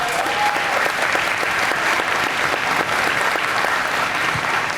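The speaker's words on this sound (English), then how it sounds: "Round of applause for the panel" A conference audience applauds a sales pipeline panel at an ecommerce agency summit, steady dense clapping from many hands filling the hall throughout, loud and continuous with no voices over it.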